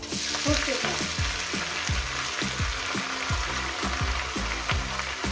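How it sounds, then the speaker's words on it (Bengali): Mustard greens fry with garlic in a pan, a loud continuous sizzle broken by regular scraping stirs in a steady rhythm. "শাকটাকে দিয়ে যেরকম শাক ভাজা করেন সেইভাবে আমি রসুনের সঙ্গে ভেজে নেব"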